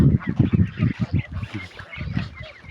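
A garden goose gives a quick series of loud, close, nasal honks in uneven bursts, pausing briefly before another run of calls.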